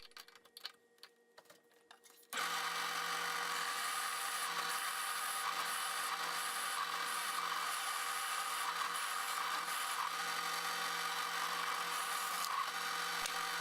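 A Forstner bit bores steadily into a wooden 2x4 spacer block, a loud, continuous grinding rasp that starts abruptly after a couple of seconds of quiet tapping and holds evenly to the end.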